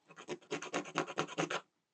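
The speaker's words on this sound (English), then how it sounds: "So I've got a sanding stick here. Just going to make sure that that's perfectly" A sanding stick rasps back and forth about a dozen times against the end of a small U.S.S. Constitution model ship part, squaring it off. The strokes are close, rhythmic and quick, then stop.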